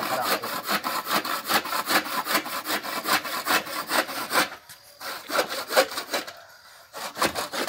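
Handsaw cutting a dry wooden hoe handle, a loud close series of rhythmic rasping strokes with brief pauses near the end, no talking.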